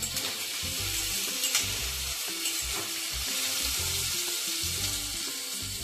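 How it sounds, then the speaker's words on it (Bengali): Chopped ginger frying in hot oil for homemade chili chicken, a dense steady sizzle with rhythmic low scraping as a spatula stirs the pan, close and alone without voices. "এগুলো নাড়াচাড়া করে তারপরে আদা কুচি দিচ্ছি"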